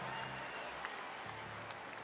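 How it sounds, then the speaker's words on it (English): Crowd applause at a Sydney Kings versus Tasmania JackJumpers NBL basketball game, a steady wash of clapping and cheering through the arena with a low music bed underneath, held at an even moderate level throughout. "Give Nathan a round of applause, ladies and gentlemen, for his birthday."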